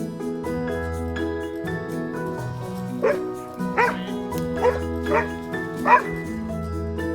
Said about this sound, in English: Soon there was the barking of a few dogs running after a herd of animals.